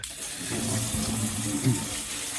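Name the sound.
water hose rinsing out an anchor chain locker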